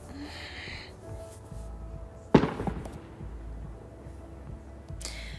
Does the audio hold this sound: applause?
no